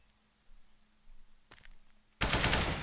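Gunfire goes off in Counter-Strike on the Cache map. A faint distant shot is followed by a sudden loud, sustained burst of rapid fire at the end.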